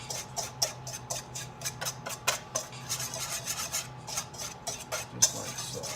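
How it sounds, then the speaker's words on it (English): Almond flour mixture for keto cheddar biscuits is whisked in a bowl, producing quick, light scraping ticks in an uneven rhythm, faint and close, without speech. "So just whisk it together."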